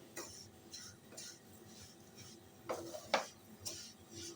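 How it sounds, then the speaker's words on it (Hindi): A spoon stirs kunafa dough as it roasts in a pan over low heat, making repeated close scraping strokes and light metallic clinks. Two or three sharper knocks come near the end. "इस तरह से चम्मच आपने लगातार चला लेनी है।"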